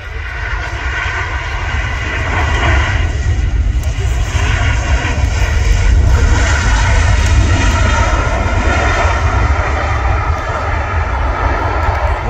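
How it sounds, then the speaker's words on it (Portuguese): An Emirates Airbus A380 lands at Guarulhos airport, and its engines make a loud, close, continuous roar that swells slightly and stays steady throughout, drowning out the crowd. "Vamos ver esse pouso."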